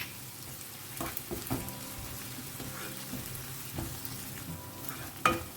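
Onion with ginger garlic paste fries in a pan for Goan squid chilli, a soft steady crackling sizzle with occasional stirring knocks and one sharper clack near the end.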